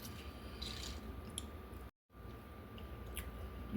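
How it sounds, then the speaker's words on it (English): Lemon being squeezed by hand, a close, wet squishing and crushing of the fruit with small drips, steady throughout with one brief silent break in the middle. "let me squeeze the rest of this lemon here"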